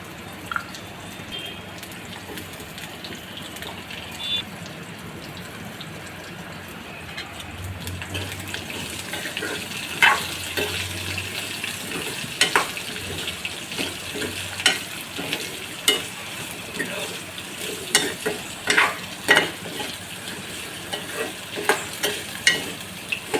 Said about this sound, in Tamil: ஸ்லோ ஃப்ளேம்லேயே வச்சு நல்லா கிண்டிக்கோங்க